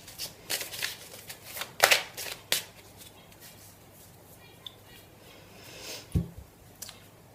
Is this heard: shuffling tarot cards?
yes